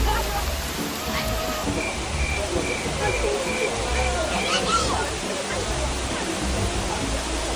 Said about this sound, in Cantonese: 雨勢有時頗大啊。